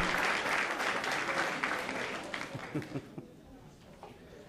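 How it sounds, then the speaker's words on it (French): An audience at a sports-study foundation scholarship ceremony applauds the recipients, a dense sustained burst of clapping that gradually thins out and fades into scattered claps. "bonne main d'applaudissement à tous les lauréats de la Fondation Sport-Études"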